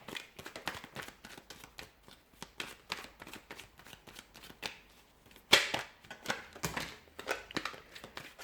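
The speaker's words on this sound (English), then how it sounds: "I've got a few cards that have fallen out. Just going to reshuffle." Tarot cards riffle and slap in repeated quick bursts while being shuffled, with a few cards spilling out; one sharper, louder slap stands out midway among the steady close-up flutters.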